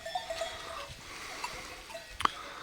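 A herd of goats moves along a path with faint scattered bleats and light clinking bells, quiet and distant, with a sharper close bleat near the end.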